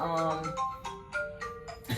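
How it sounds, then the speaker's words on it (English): A phone rings nearby in a melodic ringtone, a series of tonal electronic notes, while people keep talking over it at the same level. "We're gonna ignore the phone ring."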